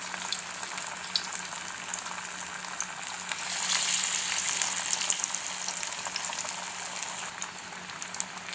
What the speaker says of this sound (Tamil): எண்ணெய் காஞ்சிடுச்சு. ஸ்டவ்வை லோ ஃப்ளேமில் வச்சுட்டு வடை தட்டி போட்டுடலாம்